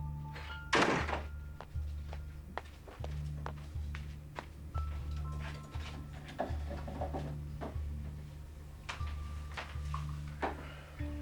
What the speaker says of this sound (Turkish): Giderken de kapıyı kapat kimse girmesin içeri.